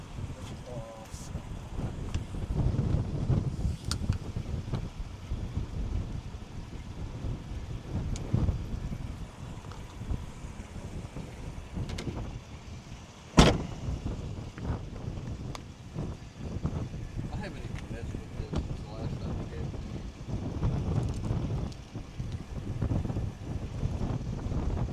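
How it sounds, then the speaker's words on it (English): Strong tropical storm wind at the beach buffets the microphone in continuous loud roaring gusts, with one sharp knock midway and a voice speaking briefly under it. "it's shitty out here with the wind"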